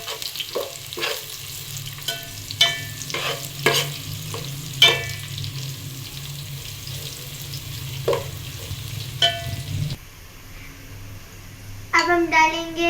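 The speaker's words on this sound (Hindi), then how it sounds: "फिर अब हम इसको हिलाएंगे।" Whole garam masala stirred into browned onions in a pot, with a constant sizzle and repeated sharp clinks of a spoon against the pot, then a voice near the end.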